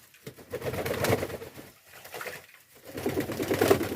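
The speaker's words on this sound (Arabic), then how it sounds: "دابا الحمام لا يعني لقى راحته يعني باش يدوش" Pigeons bathing in water, soft splashing and fluttering mixed with low cooing from several birds close by, in uneven bursts with quieter gaps.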